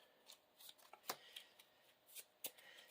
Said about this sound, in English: Shuffling the encounter deck.